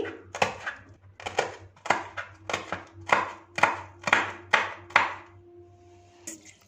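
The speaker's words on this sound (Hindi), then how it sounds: "इन्हें भी बारीक चॉप कर लेंगे।" A knife chops green chillies on a cutting board in a steady series of about ten sharp, close taps, then stops.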